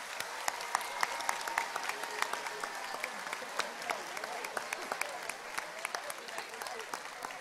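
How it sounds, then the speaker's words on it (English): An audience at a high school spring concert gives another round of applause, crisp individual claps standing out over a moderately loud, steady ovation with a little crowd murmur underneath. "How about another round of applause for these guys?"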